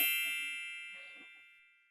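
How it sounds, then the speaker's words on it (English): A single bright bell ding rings out and slowly fades, its metallic tone sustained over the whole clip and heard alone. "if you hear this bell"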